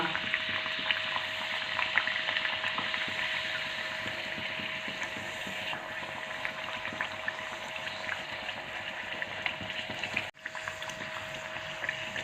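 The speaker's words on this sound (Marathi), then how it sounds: "आता एक एक पुरी सोडून आपण तळून घेऊ" Sweet puris made with semolina deep-frying one at a time in hot oil in a kadhai, producing a steady bubbling, boiling hiss held at an even level throughout with a brief dip near the end.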